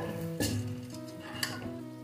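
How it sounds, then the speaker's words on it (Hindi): Chana dal slides into a hot tadka in a dhaba-style pan, giving a steady soft sizzle with a couple of brief scraping stirs and light utensil clinks, close and fairly quiet. "तो धीरे से सारी दाल को हम इसमें डाल देंगे।"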